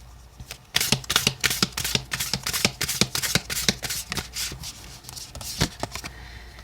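Oracle cards are shuffled by hand for a tarot reading, giving a close, crisp run of riffling flutters and soft slaps in an uneven rhythm that carries on for several seconds without speech.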